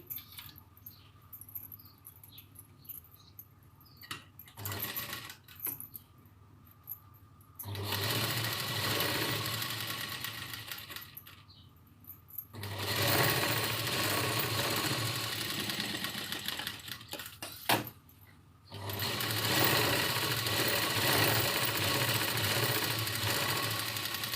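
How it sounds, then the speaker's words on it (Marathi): A sewing machine stitching a dart on a blouse runs in three long, loud bursts of rapid mechanical whirring, with short quiet pauses and faint handling sounds between them. "ह्याच्यावर आधी दाप शिलाई द्यायची"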